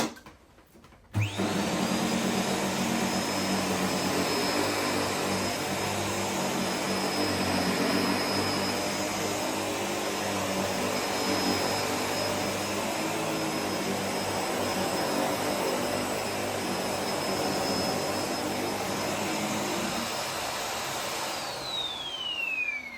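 A Sebo BS360 commercial upright vacuum cleaner starts up and runs steadily on a floor, a loud constant motor whine with a high tone over broad airy noise, then spins down at the end.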